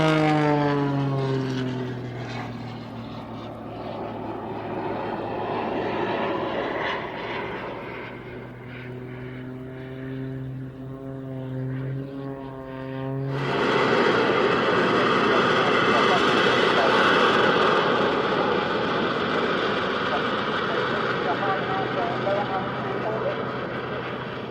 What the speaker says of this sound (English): Not what you would expect to see from a biplane.